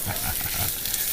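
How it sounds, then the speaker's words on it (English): Ginger sizzles and fries in hot coconut oil in a home kitchen, a steady dense crackle with no talking. "Got the nice sizzling right there."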